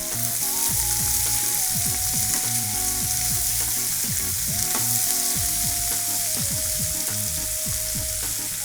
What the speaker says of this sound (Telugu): ఈ క్యాబేజ్ని కొంచెం పచ్చివాసన పోయే వరకు అండ్ కొంచెం కలర్ చేంజ్ అయ్యే వరకు లైట్గా ఆయిల్ వేసుకున్నాం కదా, అందులో కొంచెం టాసే చేసుకోవాలి